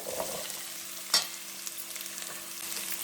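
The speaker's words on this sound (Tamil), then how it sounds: "நல்லா எண்ணெயிலே வதக்கிடலாங்க" Onion and bottle gourd sauté in hot oil with a steady, bright sizzle, broken once by a single sharp utensil clack against the pan; no one speaks.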